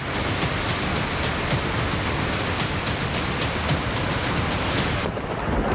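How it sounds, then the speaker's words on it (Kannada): Heavy evening rain pours over Bengaluru city as a dense, steady roar of downpour, loud and continuous throughout, with no voices. "ಸಂಜೆ ಸುರಿದ ಮಳೆ ಸಿಲಿಕಾನ್ ಸಿಟಿಯನ್ನ ಬೆಚ್ಚಿ ಬೀಳಿಸಿದೆ"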